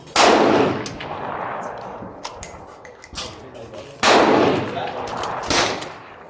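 Two loud rifle shots from a CZ 527 bolt-action at an outdoor shooting range, near and sharp with brief echoing decay, spaced about four seconds apart, with faint clatter and handling noises between them.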